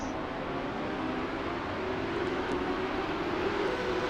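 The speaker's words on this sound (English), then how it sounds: "they still got the weird as heck engine sounds" Race car engines in a NASCAR video game at Watkins Glen drone as a steady, continuous whine with no talk over them.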